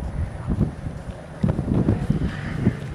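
Constant wind blows through a garden, buffeting the microphone with a low, uneven rumble and gusty surges.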